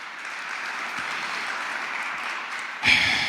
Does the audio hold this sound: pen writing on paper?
no